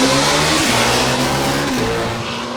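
A US Legend race car revs hard at a Teakle Autosprint event, its loud nearby engine climbing and dropping through several gear changes in a buzzing, fluttering roar before easing slightly at the end.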